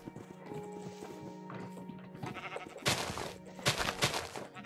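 Blocky sheep in the Minecraft Feed The Beast modpack make short game sounds, with soft thuds and footstep-like clops building to a few louder bursts near the end.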